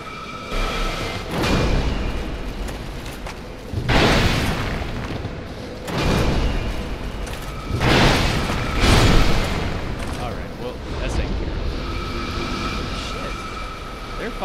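Enemy ranged attacks in Dark Souls II land as a series of deep, booming blasts, each roughly two seconds apart, over a dense rumbling game soundtrack with a player's voice talking throughout.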